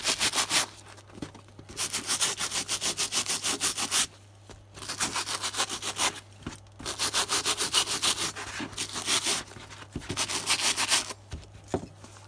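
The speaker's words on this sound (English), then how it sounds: "Wear the paint a bit more into the fabric itself." Brush scrubbing paint into military webbing and pouch fabric in rapid back-and-forth strokes, loud and close, arriving in bursts of several seconds separated by short pauses, with no talk.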